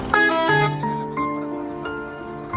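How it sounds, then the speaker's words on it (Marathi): A bus horn blasts loudly once, then a few shorter, quieter honks follow with low engine noise underneath. "हॉर्न वाजवलेला आहे त्यांनी."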